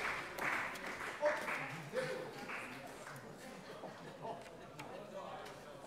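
Applause fills a parliament plenary session, a fairly distant patter of many hands that fades gradually beneath murmured chatter and voices in the chamber.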